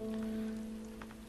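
Steady rain in the video game Starbound falls as a continuous hiss over a low, sustained game hum, with no talking.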